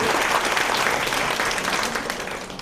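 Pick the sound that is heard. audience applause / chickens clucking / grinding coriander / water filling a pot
audience applause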